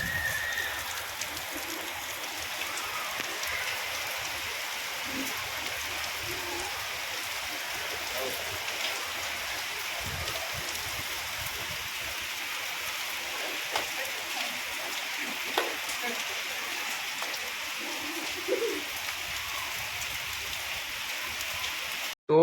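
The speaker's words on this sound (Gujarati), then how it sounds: "વરસાદ ફૂલ પડી રહ્યો છે" Heavy rain pours steadily for the whole stretch, a dense, even hiss of drops hitting surfaces close by, with no break.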